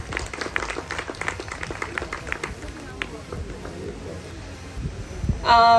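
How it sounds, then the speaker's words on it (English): At an orientation day for the Pakistan Group of Colleges, a crowd claps for the college director. The clapping is loudest at first and thins out over the next few seconds, with voices underneath. "A huge round of applause for her."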